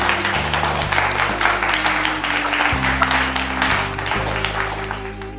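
An audience at a family contest event in a Rampurhat jewellery store claps steadily for a team, a dense sustained applause over a droning musical backdrop.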